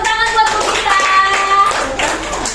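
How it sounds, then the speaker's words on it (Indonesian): An audience at an early-childhood-to-primary-school transition training event claps hands for a presenter, a steady round of close clapping with some tonal background sound and murmuring underneath. "Oke, tepuk tangan buat Bu Gita."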